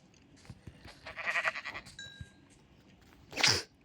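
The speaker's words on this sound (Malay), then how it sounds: "Okay, ini kambing." Goat in a survival crafting game, several short bleats with faint clicks, ending in one louder bleat close by.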